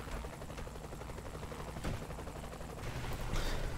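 Gunfire in the video game Saints Row The Third, with rapid weapon fire throughout, heard alongside other game action and explosive sound effects.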